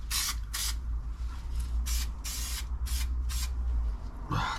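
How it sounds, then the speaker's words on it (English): Aerosol spray can putting paint onto car trim, several separate hisses of varying length sounding close, with a steady low hum running beneath throughout. "and then spray it on"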